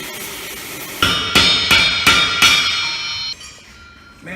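A hammer strikes metal being flattened in a small fabrication shop for racing seats, with five sharp ringing blows in a quick series followed by a fading metallic ring.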